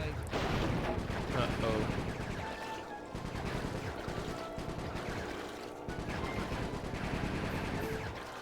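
Gunfire in the stealth action game Sly 3: dense, continuous bursts of shots and rattling impacts amid busy game music and effects, with a voice briefly speaking over it.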